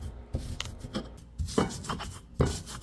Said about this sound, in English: So if you're using the traditional way, it will be like this until oil comes out. Keep grinding it.